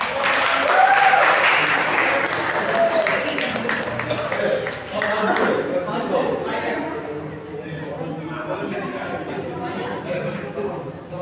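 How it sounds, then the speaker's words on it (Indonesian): A university civil procedure class applauds its presenters with sustained clapping from many hands, strongest at the start and fading gradually, while a few voices murmur underneath. "Tepuk tangan dulu mbak-mbaknya"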